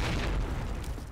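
A frag grenade explodes in Call of Duty: United Offensive during a competitive match, a loud, deep, rumbling boom that fills the whole moment and fades slightly toward the end.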